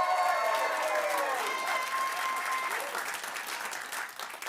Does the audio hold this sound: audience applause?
yes